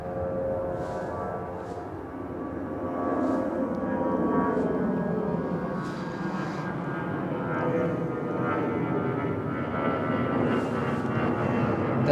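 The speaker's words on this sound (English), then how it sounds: "Delta 737 on the runway now." Delta Boeing 737 jet airliner on the runway at Toronto airport, a steady broad engine roar heard from a distance outdoors, holding fairly constant throughout with faint intermittent background noises.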